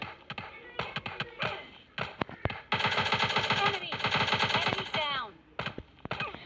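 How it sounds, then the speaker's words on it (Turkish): Rapid automatic gunfire in a video game comes in repeated bursts, with single shots scattered between them. The shots are loud, close and sharp. "Birisi bize sıkıyor ama nereden sıkıyor anlamadım."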